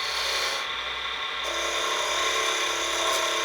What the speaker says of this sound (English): Sometimes you can hear when the wood disappears at one end.